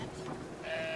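A sheep in the video game Brothers: A Tale of Two Sons gives a single short, close bleat lasting about a second, clear and alone.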